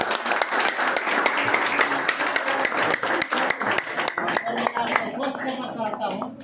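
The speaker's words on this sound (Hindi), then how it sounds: "इनके लिए जोरदार ताली।" Audience applause at an award and honouring ceremony on stage, loud dense clapping sustained throughout with crowd noise mixed in.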